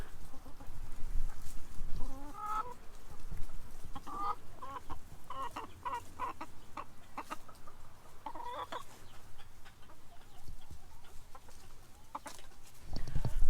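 Backyard chickens pecking at watermelon in the shade of pear trees, with soft, steady clucking and low murmuring chatter from the flock throughout.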